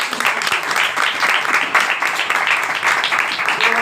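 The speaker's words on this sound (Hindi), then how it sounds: "यीशु मसीह के लिए जोरदार ताली।" A prayer-meeting congregation applauding for Jesus Christ, loud dense clapping sustained evenly for several seconds, with some voices mixed in.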